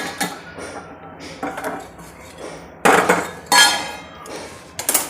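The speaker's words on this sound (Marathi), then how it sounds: "मी आता हे पातेलं बाजूला ठेवणार आहे" A metal cooking pot used for boiling jaggery water is moved off a gas stove in a home kitchen, giving several sharp metallic clanks and scrapes, a few loud and close, between quieter handling sounds.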